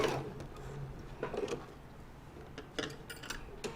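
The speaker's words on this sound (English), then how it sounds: "So I'm just sewing all the way around this." A domestic sewing machine stitches around the edge of a fabric pennant, giving short, fairly faint bursts of rapid mechanical clatter with brief pauses between runs.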